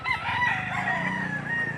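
Rooster crowing at a livestock auction market selling chickens, one long loud crow close by with other fowl clucking faintly behind.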